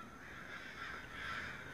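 Crows cawing in the Sinister Edge horror game, faint and distant, with repeated harsh calls drifting over a low ambient background and no talking.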